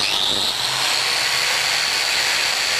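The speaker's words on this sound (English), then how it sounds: "line up the mark on the biscuit jointer with the mark we made on the timber and cut the slot" A Bosch biscuit jointer cuts a slot into timber for a number 10 biscuit, giving a steady, loud, high-pitched motor whine that holds evenly from start to finish with no pauses.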